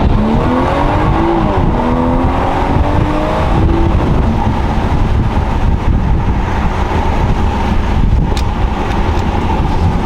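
A loud BMW B58 engine revs up and accelerates hard in first gear on the road, the pitch climbing in a couple of sweeps before settling into a steady roar with wind noise.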